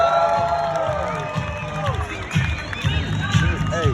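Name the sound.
crowd cheering and making noise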